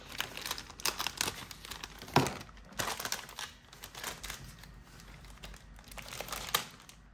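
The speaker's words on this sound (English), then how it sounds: "So let's get the plastic off." Plastic bag wrapping being pulled and crinkled off the sprues of a Soviet Warlord Games model kit with a Katyusha rocket launcher, close and continuous with sharp crackles and a few louder snaps.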